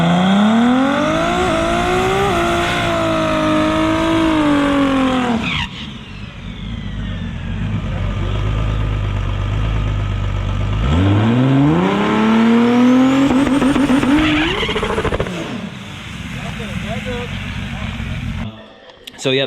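Turbocharged drag car launching with its tires spinning, loud engine revving up and down in rising and falling sweeps, cutting off, then roaring again with tire noise, heard near.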